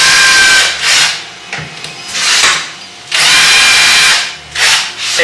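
Drill with a centering bit boring a 35 mm hinge cup hole, in long loud grinding passes broken by short pauses, close up and with no voices.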